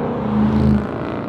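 A 2020 Shelby GT500's engine and exhaust in track mode drone steadily with a low, throaty hum, close and loud, slightly swelling midway before settling.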